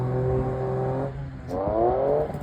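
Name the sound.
1200hp Vauxhall Corsa engine on a run, gear selector shifting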